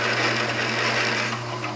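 A drill bit boring into metal while parts for a replica of Henry Ford's first engine are made: a steady, close, grinding whir with a constant hum underneath, continuous throughout and without voices.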